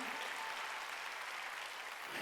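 A church congregation at a Sunday worship service breaks into soft, distant-sounding applause, an even wash of clapping that holds steady for a couple of seconds.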